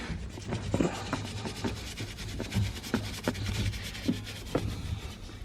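Stiff bristles scrub a Camaro ZL1's pedals back and forth in short, uneven strokes close up, a steady rasping rub with no talking.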